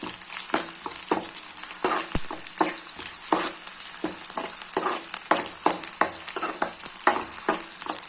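Brinjal masala frying in a pan crackles with a steady sizzle, broken by repeated sharp scraping taps of a spatula stirring at an irregular rhythm, close and fairly loud, no talking.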